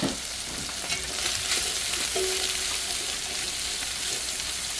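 Four onions sautéing in a pan, a steady broadband sizzle with occasional stirring scrapes, close and continuous without any talk.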